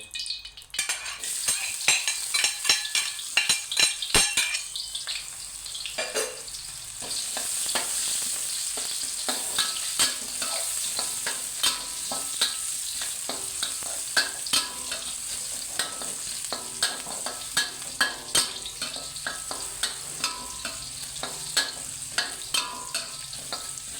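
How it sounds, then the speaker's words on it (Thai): Garlic frying in oil in a pan for crispy fried catfish with chilli and garlic, a dense crackling sizzle with rapid spoon scrapes and clicks, louder busy stirring early then a steadier bubbling fry, close up. "ผมจะทำการเจียวกระเทียมนะครับ"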